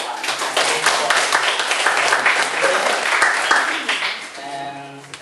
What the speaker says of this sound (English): let's just give a full applause to Pak Nazamuddin